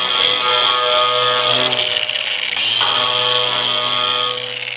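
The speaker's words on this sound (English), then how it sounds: "Alright, we got our flap disc and our angle grinder." Angle grinder fitted with a flap disc smoothing sharp edges of a steel drum for a smoker build, a loud, close, continuous whine with a brief dip in the middle before grinding resumes.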